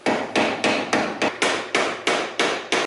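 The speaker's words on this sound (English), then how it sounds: "you have to hammer the nut sides on here so it's like clamped on" Nine sharp, evenly spaced hammer blows on a new front axle nut on a BMW E92 335xi, staking its sides into the threaded groove; loud, close metallic strikes with no talking.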